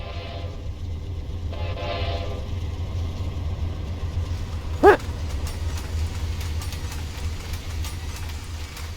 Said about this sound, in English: Clickety-clack sounds!